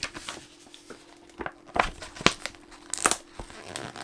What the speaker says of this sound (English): once I take the J card off